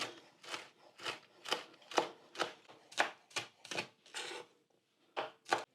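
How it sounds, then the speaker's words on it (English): A knife chops whole green onions, down to the roots, on a cutting board for Jamaican jerk chicken: about a dozen crisp, evenly spaced cuts, close and clear, with a short pause near the end. "So let's just go ahead and give this a quick chop as well."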